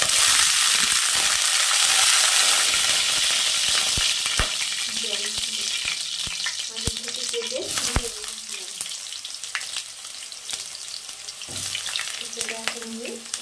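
Large diced potato and pumpkin chunks hit hot oil tempered with five spices for a vegetarian dish, giving a loud, steady sizzle that eases slightly over time, broken by clattering stirs, with a faint voice briefly in the background.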